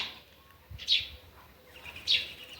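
Small birds, swallows and sparrows on a cold spring morning, give two brief, high chirps about a second apart, fairly close and clear over a quiet outdoor background with faint low rustling.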